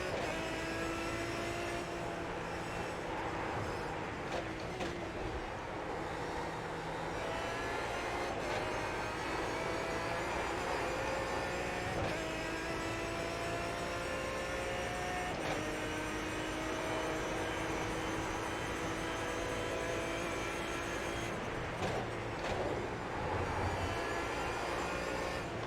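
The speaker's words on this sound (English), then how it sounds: "this engine at full song makes a noise." In the iRacing video game, an Aston Martin DBR9 race car engine drones steadily at full throttle at Silverstone, with rising whines as it shifts through gears over a constant, loud mechanical roar.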